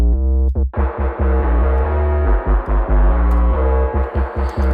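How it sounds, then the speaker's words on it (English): A deep, bouncy synth bass line played in repeated notes through an Accutronics spring reverb tank, drenched in a boomy, splashy reverb that rings between hits; loud and solo. "we've got the classic monstrous spring reverb bass sound."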